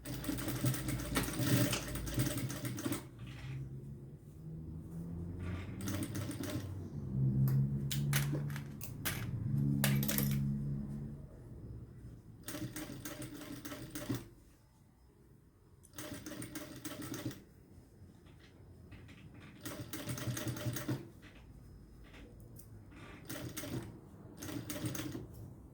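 A sewing machine stitches a seam over bias binding in a run of loud, close, rapid mechanical bursts. Short pauses and lighter clatter break up the stitching.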